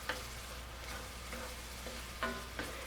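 Peppers and onions fry in butter in a pan, a close steady sizzle broken by a few brief stirring scrapes and clicks.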